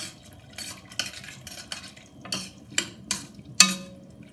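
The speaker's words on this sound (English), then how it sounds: "I'm gonna take that spoon and I'm gonna stir up" A spoon stirs chicken vegetable soup in a pot. Irregular metallic scrapes and clinks come up close against a soft bubbling background, ending in one sharper clang.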